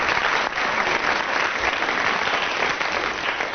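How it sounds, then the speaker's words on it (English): A studio audience at a comedy panel show applauds for Graeme Garden, with steady, dense clapping that stays loud and continuous throughout. "Right, round of applause for Graeme Garden,"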